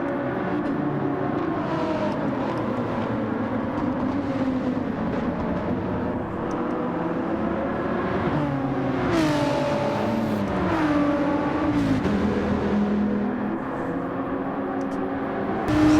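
A race car engine in the Gran Turismo 7 video game drones steadily through a race, with the pitch climbing and dropping as the car shifts and accelerates. A second car runs just ahead in its slipstream, and no one speaks over the engine.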